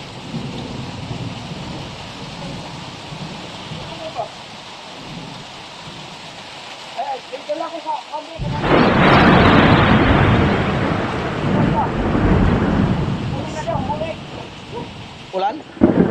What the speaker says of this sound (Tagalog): grabe ulan na